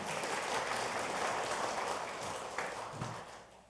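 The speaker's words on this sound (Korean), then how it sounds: "박수 좀 부탁드리겠습니다." A room at a National Assembly forum on illegal copying applauds a visiting lawmaker, with broad, steady clapping at a fairly low level that fades gently toward the end.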